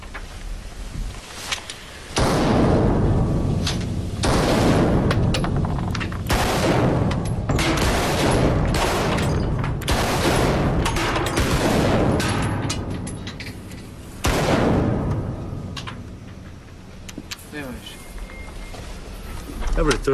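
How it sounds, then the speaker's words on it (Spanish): Assault rifle gunfire in bursts, loud close rattling volleys of shots repeating across the clip with brief gaps, people speaking faintly in between. "Uno de cada tres disparos va demasiado alto. No importa con qué modelo sea. Lo puede probar con cualquier rifle de asalto."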